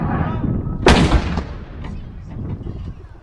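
An artillery gun fires a single round: one sudden, loud blast followed by a rumbling decay over steady background noise.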